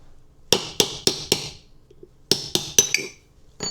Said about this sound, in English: I hammer the old bearings with this tool.